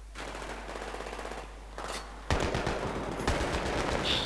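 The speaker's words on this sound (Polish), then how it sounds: "Skąd strzelają, ale skąd?" Rapid automatic gunfire from the Battlefield 3 video game, steady bursts through the first half that jump louder and denser midway, with sharp reports continuing to the end and no speech.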